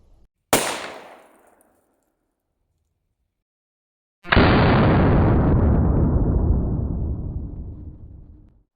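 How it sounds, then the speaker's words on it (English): Two 9mm pistol shots from a Glock 19 and a Canik TP9 at an outdoor range: one sharp, loud crack that quickly fades, then a second heavy blast with a long, drawn-out roaring decay. "The legendary Glock 19 versus the Canik TP9 in multiple angles slow-motion video."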